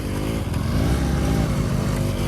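Motorcycle stuck on a steep off-road climb during a group ride, its engine revving loudly and continuously up close with a rough, strained roar.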